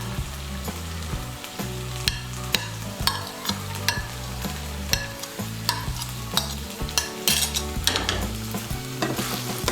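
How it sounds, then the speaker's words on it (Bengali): Chopped carrots and beans fry in a pan for jhal suji while a spatula stirs them. Sharp scraping strokes repeat roughly every half second over a steady, close sizzle. "সমস্ত সবজিগুলোকে ভালো করে মিশিয়ে নেব।"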